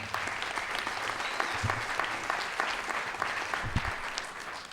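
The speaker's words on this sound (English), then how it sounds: "Give him a round of applause" Audience at a charitable foundation graduation ceremony applauding a guest speaker being introduced, dense sustained clapping from a crowd filling the room, steady and fairly loud throughout.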